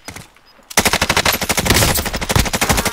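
Rapid automatic gunfire in Call of Duty Cold War bursts in loud and close after a brief quiet moment, firing in a fast unbroken stream of shots.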